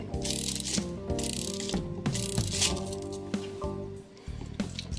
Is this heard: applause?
no